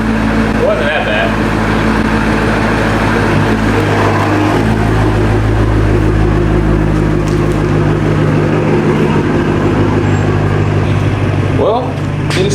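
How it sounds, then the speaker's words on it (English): A BMW M4 idles with an exhaust leak, a steady close low rumble with a buzzy, uneven drone that holds throughout. "Well, it is safe to say I have an exhaust leak."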